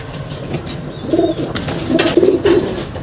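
An island-born GFL pigeon coos at close range, several soft throaty coos, each a short rolling phrase, over a low ambient background with faint flutters.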